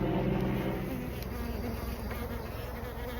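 Honeybees buzz steadily and densely around an open hive during an apiary inspection, a close, continuous swarm hum with no voices over it.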